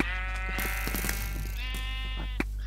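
A Minecraft sheep bleats loudly in a long wavering call, then bleats again, over a steady low hum with faint clicks.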